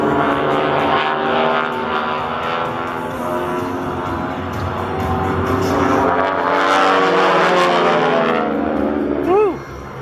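Loud, steady drone of aerobatic propeller planes in the Aeroshell formation at SUN 'n FUN 2018, swelling and fading as they pass, ending with a sharp rising-and-falling pitch sweep of a close flyby.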